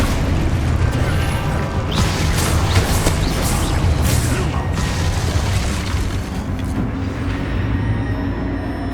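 Spell blasts in Hogwarts Legacy erupt as repeated booms and bursts over a dense bed of game effects, loud and close, thinning out near the end.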